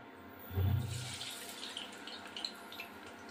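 Water poured from a small bowl used to rinse spices into a pan of cooking fish curry, a brief splash and trickle near the start, then faint kitchen sizzle with no talk.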